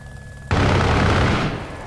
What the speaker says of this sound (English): Let's see if I can give you a quick little gun run